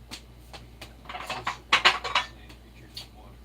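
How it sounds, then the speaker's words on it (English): Metal pans clatter and knock together in a kitchen as one is pulled out, a run of bright clanks and scrapes with a few lighter taps before and after. "Alright, now I need to get a pan."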